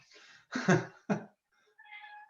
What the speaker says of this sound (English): Sorry, and that was the cat.